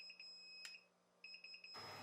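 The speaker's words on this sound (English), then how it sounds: "the alarm will continue to sound until you press set or the temperature comes down by itself" Repeated high-pitched electronic beeping from an Inkbird ITC-308 WiFi temperature controller alarm sounds in a quiet room, in two bursts of short regular beeps with a single sharp click between them.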